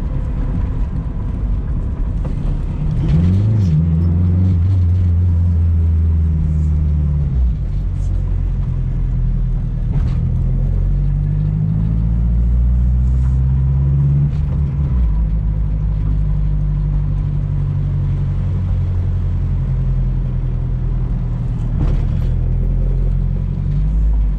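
Turbocharged K20-swapped Honda Civic hatchback driving on the street, a loud, steady low engine drone with rising revs, boost surges and brief drops between gears throughout, running close and continuous.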